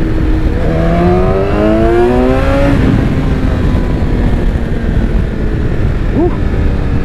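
BMW S1000XR motorcycle fitted with an Akrapovic exhaust, ridden in dynamic mode, its engine note rising through rising harmonic sweeps under steady wind rush, then settling into a sustained drone with a brief rev blip near the end.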